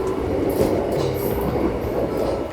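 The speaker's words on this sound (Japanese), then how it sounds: "This train looks like a Japanese train." A commuter train bought secondhand from Japan runs along the track with a steady rumbling roar and faint rail squeals, continuous and close throughout.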